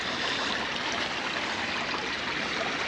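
Water rushes steadily through a stone drainage channel where tilapia gather, making a loud, continuous, close-up flow with no pauses.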